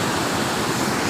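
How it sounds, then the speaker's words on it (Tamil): Heavy rushing water released from Mettur Dam, a loud, dense, continuous roar of churning flow with no pause. "தண்ணி பாருங்கள் எவ்வளோ போகுது."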